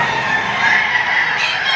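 Chickens clucking and squawking at a livestock auction market, a dense, close chorus of fowl calls that continues without a break and with no speech.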